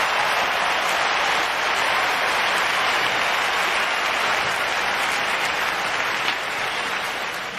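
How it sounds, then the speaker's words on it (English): A long sustained wave of applause for Lionel Messi after his World Cup win, a dense steady roar of many hands, loud and uniform throughout, with no talk over it. "Clap it up for him."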